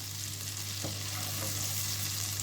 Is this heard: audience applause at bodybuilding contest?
no